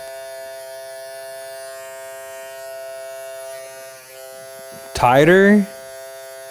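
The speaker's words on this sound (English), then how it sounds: "now I'm going to do 1/2 no guard trimmer all the way down on him" An electric hair trimmer with no guard buzzes steadily and close while cutting a child's hair, a bright harmonic hum that holds throughout, and a short spoken word breaks in near the end.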